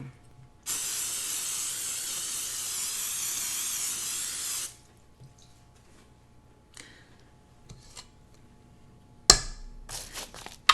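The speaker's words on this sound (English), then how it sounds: "to put some cooking spray on it" A single continuous spray of cooking spray hisses onto parchment paper for about four seconds, close and loud, followed by quiet handling noises and a few light taps and rustles.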